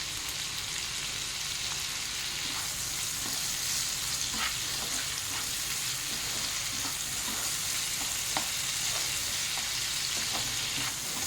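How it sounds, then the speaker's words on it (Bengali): Tomatoes cooking with a pinch of salt in a hot pan, a dense continuous sizzle and hiss with faint scattered pops and light stirring taps throughout, close and without speech. "তিন থেকে 4 মিনিট আমি রান্না করে নেব টমেটোটা দিয়ে"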